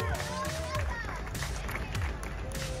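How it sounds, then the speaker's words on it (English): A crowd at the grand opening ceremony of the Kid Flash ride at Six Flags Fiesta Texas claps for military members and veterans, with close, sharp claps and a few cheers mixed with nearby voices. "Please join me in a big round of applause for our members of the military"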